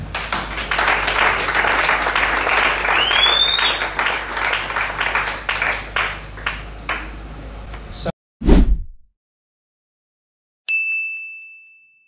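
Church congregation applauding at a gospel worship service, a dense rhythmic wash of clapping with voices mixed in, cut off abruptly and followed by a loud thump and a ringing ding.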